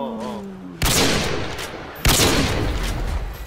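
Gunfire in Call of Duty: Modern Warfare 2 during a private match among friends, two loud sudden bursts each trailing off into a noisy wash, with no talk over them.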